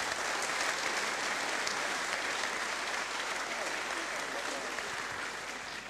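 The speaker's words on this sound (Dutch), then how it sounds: "Een applaus." Applause from an audience at an award ceremony at Eindhoven University of Technology, steady and loud from start to finish.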